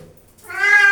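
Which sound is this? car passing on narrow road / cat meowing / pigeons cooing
cat meowing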